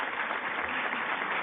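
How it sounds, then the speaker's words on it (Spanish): Audience applause at a lecture on affective neuroscience, a dense, steady burst of clapping from a crowd, loud and continuous for the whole moment. "pido un fuerte aplauso"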